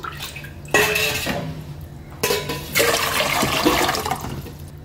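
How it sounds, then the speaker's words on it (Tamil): Water is poured from a small vessel into a cooking pot in two splashing bursts, with metal clinks between them, close and fairly loud. "2 சொம்பு தண்ணி ஊற்றிக்கலாம்."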